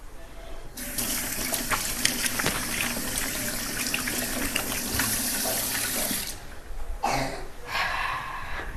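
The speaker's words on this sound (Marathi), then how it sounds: "हात धुवून घेते थोडासा" In a home kitchen, water pours from a tap for hand washing, a loud steady gush lasting several seconds that cuts off, then a short second burst of running water, close up with a faint cough.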